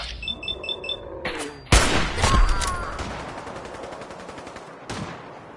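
Gunfire in the video game Fallout 4, a sharp loud burst of shots followed by rapid repeated fire and decaying echoes, with beeping interface tones at the start and another shot near the end.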